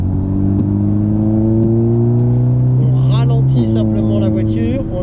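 A race car accelerates on the Magny-Cours circuit, its engine drone climbing steadily in pitch and then dropping as it shifts, heard close and loud from inside the car with someone talking over it.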